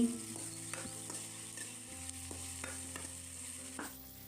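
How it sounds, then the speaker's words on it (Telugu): Onion paste and curry leaves frying in hot oil, giving a soft continuous sizzle with several sharp spoon taps and scrapes against the pan, close up with no voices. "దంచుకున్న ఎర్రగడ్డల పేస్ట్ వేసుకోవాలి అలాగే రెండు రెమ్మల కరివేపాకు వేసుకుని ఫ్రై చేసుకోవాలండి"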